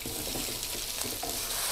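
Noodles fry and sizzle in a wok at a village noodle stall, a steady loud hiss with rhythmic scraping of stirring running throughout.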